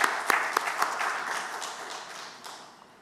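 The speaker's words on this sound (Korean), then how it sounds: "노래를 위해서 다시 한번 박수해 드리겠습니다." Applause from a church congregation following a song, several sharp claps at the start settling into a steady patter that gradually fades away, with no talking over it.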